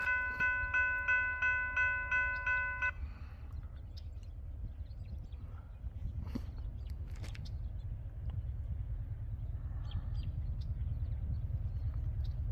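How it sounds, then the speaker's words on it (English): An intermodal freight train approaches with a pulsing multi-tone horn blast lasting a few seconds. A deep, steady rumble of rolling wagons follows and builds as it passes close by. "here comes our next train coming from behind me"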